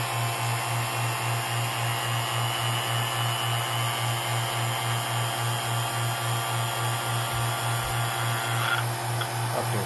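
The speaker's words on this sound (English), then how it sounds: "I'm pulling vacuum on the high side, making sure that there's no moisture in it" A vacuum pump pulls down a car air conditioning system on the high side during a pressure line repair, giving a steady, loud pulsing drone that runs unbroken for the whole stretch with no talk.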